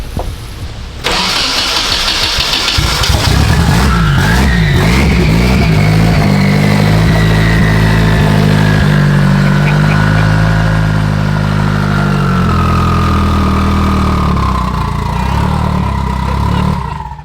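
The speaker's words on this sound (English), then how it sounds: "One of my favorite parts of the Turbo Smart Turbos is how much whistle they have at idle." A car's Turbosmart-turbocharged engine cranks and catches, then idles loudly and steadily up close with a rough low rumble, while a high turbo whistle rises and slowly falls over the idle, with no talking.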